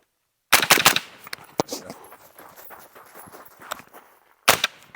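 Suppressed 5.56 rifle shots through a Southpaw suppressor at an outdoor range: a quick cluster of sharp, close reports, then scattered clatter and faint movement, and another loud shot at the end.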